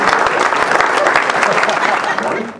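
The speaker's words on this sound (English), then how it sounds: "Everybody give her a round of applause." Dense, loud applause from a company party audience fills the room steadily for a couple of seconds before tapering off at the end.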